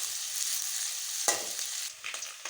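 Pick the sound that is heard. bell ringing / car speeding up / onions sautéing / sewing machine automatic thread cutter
onions sautéing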